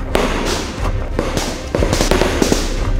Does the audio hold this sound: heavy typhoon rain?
no